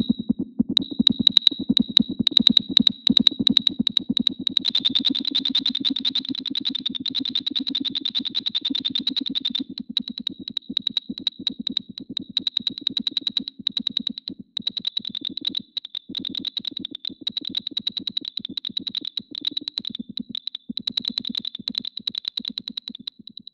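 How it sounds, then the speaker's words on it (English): Sonified one-bit binary rendering of frequency bands: a dense, buzzy electronic texture with a steady high tone and rapid stuttering clicks, continuous and fairly loud throughout, with no talking. "I started just listening to the frequency bands and this binary representation, which sounds like this."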